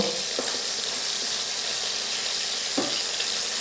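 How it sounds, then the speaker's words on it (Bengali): Chicken pieces sizzle steadily in hot oil in a wok over low heat, a continuous close hiss with a couple of brief clinks from stirring. "এখন আমি আস্তে আস্তে গোশতগুলো ভেজে নিব।"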